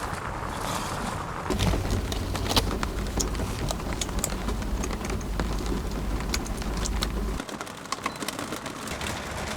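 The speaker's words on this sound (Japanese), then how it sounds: "時折横殴りの雨になるので一瞬でびしょびしょになってしまいます。" Heavy typhoon rain, driven sideways by gusts, pounds a parked vehicle during a night of car camping in a 200 mm downpour. It is a dense, steady roar of drops with a low rumble underneath, easing sharply near the end.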